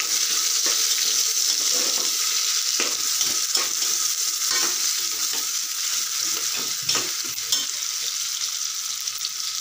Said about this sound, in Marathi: आणि कट केलेले कांदा आणि लसूण देखील ॲड करूया। आणि व्यवस्थित परतून घेऊया।